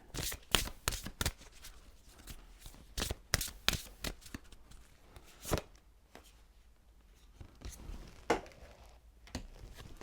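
A deck of Belinda Grace True Love oracle cards is shuffled close up in bursts of crisp riffling slaps and flutters, with short pauses between, and no talking.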